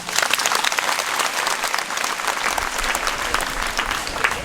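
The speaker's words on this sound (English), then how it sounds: "Please give God a thunderous hand clap." An audience claps steadily at a school results celebration at Tororo Girls School, the dense applause staying loud and even throughout with no talking over it.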